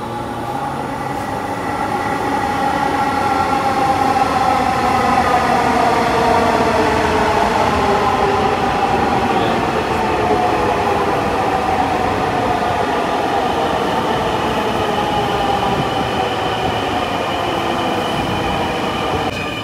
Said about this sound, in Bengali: পাঁচ মিনিট ধরে অপেক্ষা করার পর মেট্রো চলে আসলো